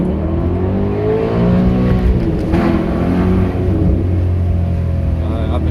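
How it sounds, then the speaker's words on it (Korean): A Maserati Quattroporte engine drones and revs inside the cabin, its exhaust pitch climbing and falling over a steady low rumble, with brief talk faintly mixed in. "마세라티 배기음이 어떤 건지"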